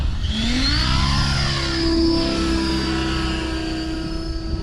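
An RC helicopter motor spools up from idle, a loud, rising electric whine with a steady rotor drone that climbs in pitch and then holds.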